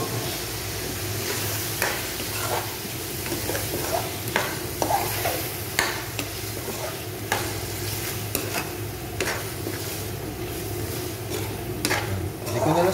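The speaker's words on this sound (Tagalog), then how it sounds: "Isunod natin dito yung patatas natin mga guys." Potatoes added to a frying pan for beef menudo, a steady sizzle under repeated scraping stirs of a utensil against the pan, close and continuous.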